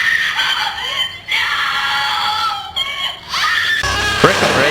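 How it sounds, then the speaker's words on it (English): From an anime, stereos play a girl's screams of agony: loud, continuous, wavering high-pitched screaming and wailing with brief breaks, ending in a sharper outburst. "He has these stereos that play Yanagi's screams of agony"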